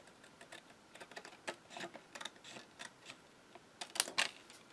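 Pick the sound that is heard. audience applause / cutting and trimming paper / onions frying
cutting and trimming paper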